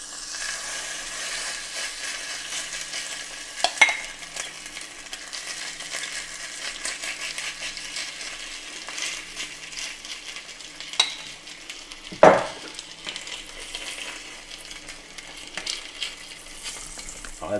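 A lobster burger mixture fries in a small knob of salted butter in a pan, giving a soft, steady sizzle with a few sharp metallic clicks and scrapes of a utensil; no one speaks over it.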